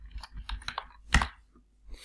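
Quick keystrokes typing a short command on a computer keyboard to open network settings, a run of light clicks followed by one louder key press like Enter, close and alone with no talk.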